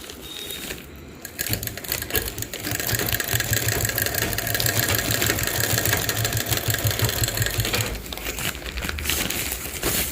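Motorized sewing machine stitching along the inside seam of an empty wheat sack, a fast, steady mechanical chatter running for several seconds, starting and stopping near the ends.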